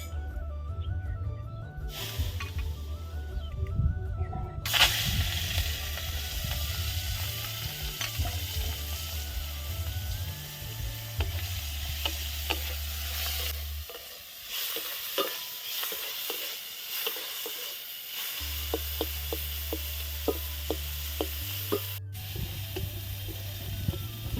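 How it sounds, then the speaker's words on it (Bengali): Prawns rubbed with salt and turmeric fry in hot oil in a pan, giving a steady close sizzle with clinks and scrapes of stirring throughout, and a brief lull midway. "তেলটা আমার ভালো করে গরম হয়ে গেছে এবার আমি চিংড়ি মাছগুলো ভেজে নেবো"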